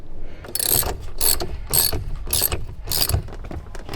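A ratchet tightens a bolt and washer on a BMW, giving five close, rhythmic bursts of clicking in quick succession.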